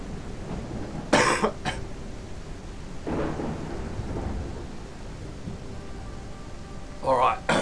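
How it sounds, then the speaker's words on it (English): Two sharp, harsh coughs burst out a few seconds apart, with a quieter rumble of thunder and rain in the background between them. "Oh, that was a bad cough."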